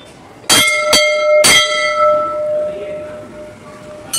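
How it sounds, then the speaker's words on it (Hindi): A temple bell is struck three times in quick succession, nearby and loud, then its bright metallic tone hums and slowly fades. "अभी टाइम है गाइस घंटी बजाने का"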